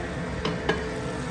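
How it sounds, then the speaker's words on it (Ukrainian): Chopped meat and onion fry in a pan with a steady, close sizzle and hiss throughout, broken by two soft clinks of stirring. "Добавила лучку. Душиться,"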